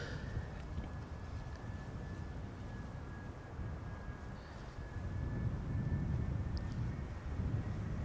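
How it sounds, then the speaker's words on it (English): An EasyJet Airbus A320 arriving at Amsterdam Schiphol from London Luton, heard as a steady, fairly distant rumble with a faint high whine, rising slightly in loudness toward the end under light breeze on a sunny day. "This is EasyJet flight 22515, arriving from London Luton, A320"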